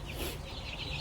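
Soft, steady clucking from chickens nearby, a low continuous chatter of birds without any voices.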